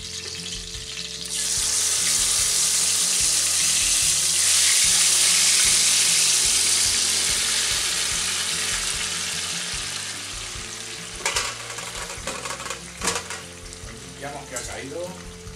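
Tomatoes and green peppers for pisto manchego hit a hot frying pan with a loud, steady sizzle that swells then gradually settles, with occasional utensil clinks and stirring scrapes near the end.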